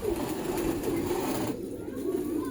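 A blue pigeon coos in a low, steady murmur close by, the soft rolling calls continuing throughout with a slight break partway.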